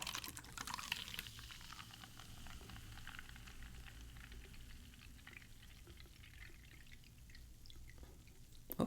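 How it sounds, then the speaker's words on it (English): Rockstar Boom Piña Colada energy drink is poured into cups, a continuous fizzy splashing and bubbling stream that stays steady for several seconds, fairly quiet and with no talking. "let's pour some of this into the cups"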